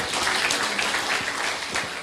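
Students at a vocational high school event in Sumenep applaud together: a steady, fairly loud patter of many hands clapping at once, sustained throughout without a break.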